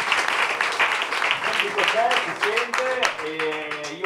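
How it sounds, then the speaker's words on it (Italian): A studio audience at a short-film screening and debate claps steadily, a dense patter of applause with voices talking over it toward the end. "Comunque lì facciamogli un applauso, dai, anche per il lavoro di questi giorni"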